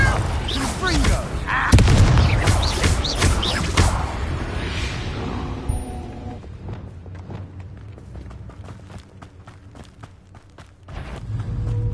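In a Harry Potter video game, Confringo blasting spells go off, with loud booming bursts and crackling impacts in the first half, then a scatter of sharp, lighter hits and thuds, under game voices.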